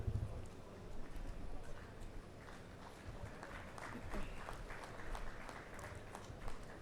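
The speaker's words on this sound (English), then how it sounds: "A big, very big round of applause for all the students who are receiving their degree" Students receiving their degrees at a university convocation ceremony are met with a crowd's fairly soft, distant applause, steady and continuous, with a faint voice or two underneath.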